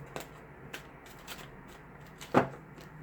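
Tarot cards being shuffled by hand in a few short riffles, with a sharper, louder snap of cards near the end; quiet and close.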